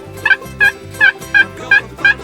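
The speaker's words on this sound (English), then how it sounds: "I've got two birds on either side of me, starting to respond" Two wild turkeys gobbling back and forth, six loud, close rattling gobbles in quick regular succession with short gaps between them.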